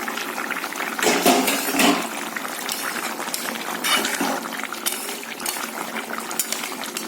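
Bengali fish curry with coriander leaves bubbles in a wok, a continuous loud boiling and gurgling with small pops and no talking.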